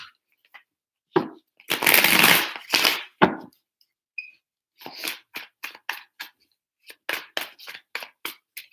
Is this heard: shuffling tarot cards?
yes